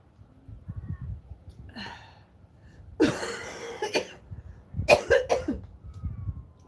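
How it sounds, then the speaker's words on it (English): Someone coughs repeatedly at a kitchen table, a cluster of sharp, close coughs and throat sounds rising from a low background murmur, with a couple of louder hacking bursts toward the end. "I'm so sorry to keep coughing on you."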